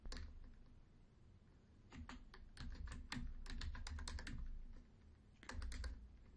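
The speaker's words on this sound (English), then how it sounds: "I'm typing the word developed and I want some help with it." Keys clatter in quick bursts of typing on a computer keyboard, close and fairly quiet, with brief pauses between runs of keystrokes.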